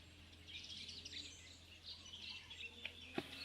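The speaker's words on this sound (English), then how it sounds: "I'm in exact same location next to the bridge where you can hear some birds" Small birds chirp and tweet near a bridge outdoors, faint scattered calls over a low steady background hum, with a couple of sharper clicks near the end.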